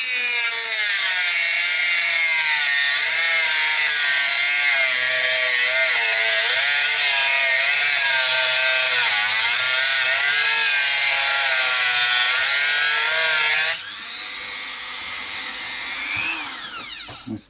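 Power saw cutting into the wooden body of an Avon Aristocat Les Paul copy guitar during a refurb, a loud steady whine with wavering pitch for about fourteen seconds, then spinning down as it is switched off.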